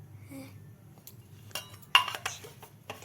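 A kadai is set down on the stove with one sharp metallic clank, followed by a few lighter clinks and knocks of cookware in a quiet kitchen, with no talking.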